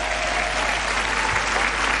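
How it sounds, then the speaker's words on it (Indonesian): Loud studio audience applause on an Indonesian dating game show, dense sustained clapping from a large crowd throughout, with no talk over it. "beri tepuk tangan."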